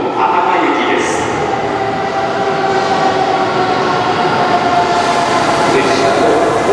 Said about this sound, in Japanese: 11番乗り場到着の列車は9時59分発かもめ16号博多駅です。